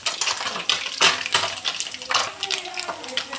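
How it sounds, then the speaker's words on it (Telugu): Small Godavari fish fry in hot oil, a steady crackling sizzle broken by sharp spattering bursts and a few clinks, close and fairly loud, with occasional speech underneath. "చూడండి, ఇక్కడ చేపలు చక్కగా వేగుతున్నాయి"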